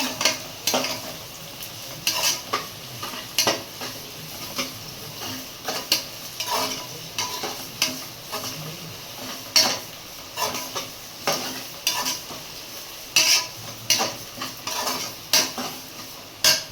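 A utensil scrapes and taps through ginger garlic paste with salt in a hot pan during biryani preparation, repeated irregular clinks and scrapes over a faint sizzle, close and clear with no talking.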